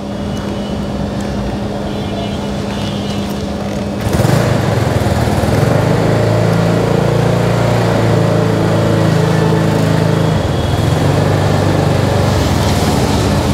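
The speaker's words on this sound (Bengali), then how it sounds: "আর আপনারা দেখতে পাচ্ছেন এটি হচ্ছে CF motor SC150 maxi scooter." Engine of a CFMoto SC150 maxi scooter idling steadily, then rising to a louder, fuller running drone partway through, close and continuous with no talk.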